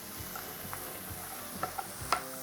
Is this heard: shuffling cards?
no